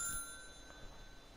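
A telephone ringing in the building-management video game Little Big Workshop: a brief, faint electronic ring at the start, fading out over a quiet background.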